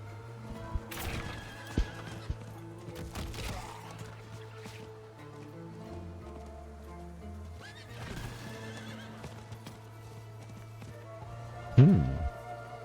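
A horse whinnies in Diablo 4, loud, near and clear, over steady game music, with clip-clop hooves and wet squishy footsteps. It ends in a sharp final burst.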